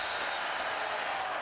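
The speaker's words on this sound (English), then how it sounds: "Chalk that one up to a good crowd here in Calgary." A large stadium crowd in Calgary at the 2016 CFL West Final between the BC Lions and Calgary Stampeders roars with a dense, loud wash of cheering and clapping, sustained evenly across the moment.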